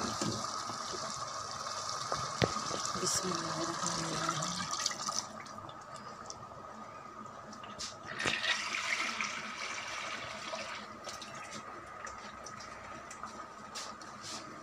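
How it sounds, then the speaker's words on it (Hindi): Water pours into a cooking pot of chicken shorba with a steady rushing splash for several seconds, then continues more quietly. "ये देखें अब इसमें पानी ऐड करने लगे"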